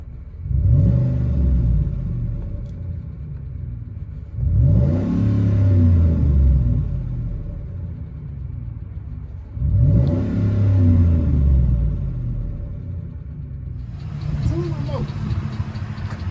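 A 2009 Ford F-150 5.4L Triton V8 with Flowmaster Super HP2 dual exhaust revs hard three times, each rev swelling and dropping back to a deep, rumbling idle.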